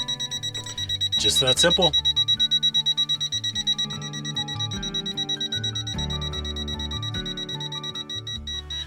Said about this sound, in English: The gas leak detector is a handy little item that I actually use a lot more than I thought I would